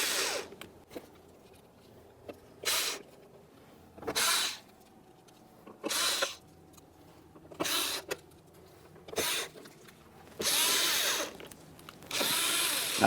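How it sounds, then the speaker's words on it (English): Power driver running Phillips head mounting screws into a Kia Forte bumper cover: a series of short, separate whirring bursts, each a second or so long, with quiet gaps between, close up and with no voices. "let's continue on with all 8 of our Phillips head mounting screws, starting them in, and then we can snug them up"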